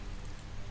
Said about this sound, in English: And it's rainy. Of course it's fucking rainy.